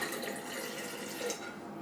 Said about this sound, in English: So pour a little bit of the water out into a watering can.